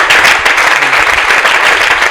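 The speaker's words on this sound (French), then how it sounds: "vos applaudissements." An audience applauds at a comedy event in Lubumbashi with loud, dense clapping that carries on steadily without a break.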